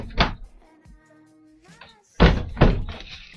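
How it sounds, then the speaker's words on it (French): A door being opened indoors, with a short thump early on and then two heavy knocking thuds close to the microphone, separated by quiet stretches with faint tonal background sounds. "je ouvre la porte"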